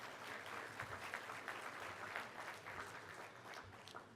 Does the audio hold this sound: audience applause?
yes